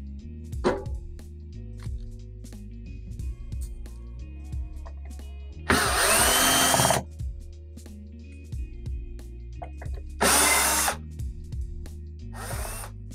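A power screwdriver removes screws from the hash boards of a crypto miner. Two loud, whirring bursts of about a second each stand out from quieter handling clicks nearby.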